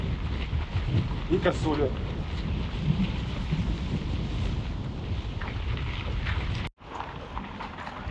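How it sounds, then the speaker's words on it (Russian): Strong wind buffets the microphone during a mountain-bike ride across open fields with no road, a continuous loud rumbling roar with a brief dropout near the end, while someone speaks briefly over it. "Зато ветер есть."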